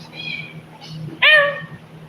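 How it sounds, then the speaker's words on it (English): A cat gives two short meows, the second louder and closer, over a low steady hum. "What are you doing, cat?"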